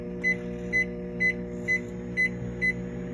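Six short, evenly spaced beeps from a microwave oven keypad while the cooking time is added, clear over a steady low hum from the appliance.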